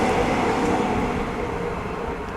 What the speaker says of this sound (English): Under this bridge there's a train there in front of me.